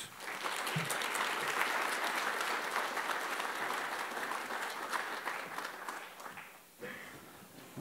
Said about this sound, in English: let's give a round of applause to Brian Fruit.